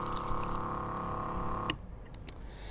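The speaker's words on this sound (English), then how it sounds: "when it's on its highest, you can see the flow of water coming out" Water spraying steadily from a window cleaner's car-mounted water-fed pole system at its highest flow, a continuous near hiss that cuts off abruptly partway through, leaving faint ticking and background noise.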